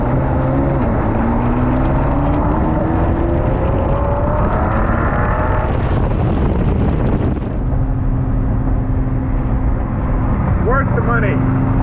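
A Ford GT sports car under way, its engine droning loud and close with a rising note that climbs through the gears, then settling to a steadier roar after a brief dip.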